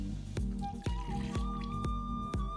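Plantation 3-Star rum for a daiquiri is poured into a measure, giving a faint, close trickle with several soft glugging drips and plops spread through the pour.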